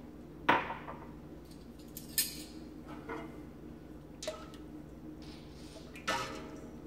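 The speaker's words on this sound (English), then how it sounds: "Stir for 1 minute." A spoon stirs milk in a pot while making halloumi cheese, giving a few sparse, quiet clinks and taps against the vessel over a soft, hushed background.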